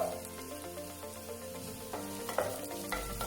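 Gobi manchurian with spring onion, green chilli and capsicum sizzles in a hot pan while a spatula scrapes and stirs in short repeated strokes, close and fairly quiet, with no voices.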